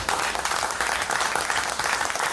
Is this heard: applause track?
yes